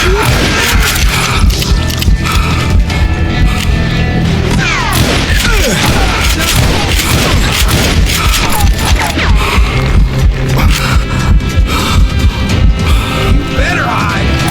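Gunfire and crashing impacts fill a Call of Juarez Gunslinger video game showdown, with loud, dense bursts and sharp hits running continuously throughout amid game sound effects.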